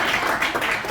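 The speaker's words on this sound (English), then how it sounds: "You can clap anytime you want." Audience applause fills a large room, a dense, steady wash of many hands clapping at moderate loudness for the whole second with no voices on top.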